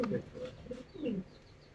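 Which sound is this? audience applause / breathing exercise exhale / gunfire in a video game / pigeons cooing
pigeons cooing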